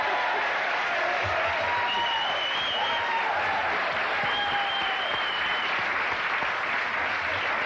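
Studio audience on a late-night talk show breaks into sustained applause, a dense, even wash of clapping from a large crowd heard at a distance, with faint whistles rising over it.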